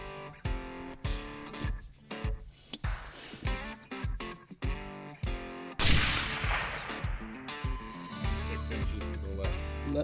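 Rifle shots fired while sighting in before a bear hunt in western bear country, a series of loud sharp reports with echoing tails, spaced irregularly and heard up close.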